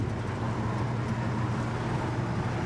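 A 1963 Ford F100 pickup truck drives in third gear, heard from inside the cab as a loud, steady low engine drone with road rumble and no pauses.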